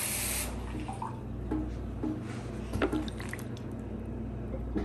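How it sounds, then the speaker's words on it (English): Water pours and trickles steadily into a container for sourdough bread, a soft continuous splashing with a few drips, fairly close and without talk. "pour more water"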